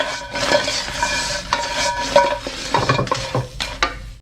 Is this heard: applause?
no